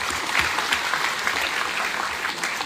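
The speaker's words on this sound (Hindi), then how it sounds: "आप लोग थोड़ा सा ताली मार दीजिए।" Steady applause from an audience at a foundation day gathering, dense continuous clapping held at an even level throughout, with no voices standing out.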